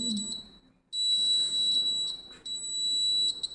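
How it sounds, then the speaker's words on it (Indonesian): Buzzer alarm of an IoT heart-rate monitoring system sounding for a low BPM reading, a loud steady high-pitched electronic tone with brief breaks, no talk. "Ini kan terdapat BPM-nya kan 12, makanya buzzernya itu bunyi."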